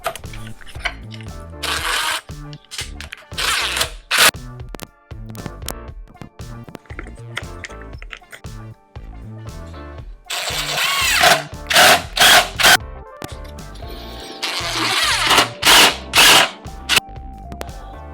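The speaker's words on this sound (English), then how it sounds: "Let's drill and screw." A power drill whirs in repeated short bursts, driving screws with pauses and small clicks between runs, close by.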